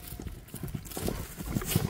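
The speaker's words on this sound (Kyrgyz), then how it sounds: "Мына көрүңүз, мына ат чабап кетти эми" A horse gallops past with faint, rhythmic hoof clatter, fairly distant and low in level.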